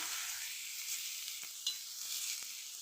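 Eggplant stir-fries over a low gas flame for Maharashtrian bharit, making a soft, even hiss of sizzling with a faint clink of stirring, quiet and brief.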